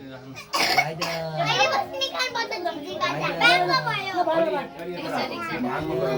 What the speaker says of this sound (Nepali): खोकी लागिरहेको